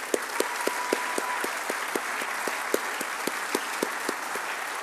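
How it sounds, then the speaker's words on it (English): An audience at a humanitarian award presentation applauds the recipient, a homebuilding company CEO, with steady clapping and regular sharp individual claps standing out near the microphone. "Let's give Jeff a round of applause"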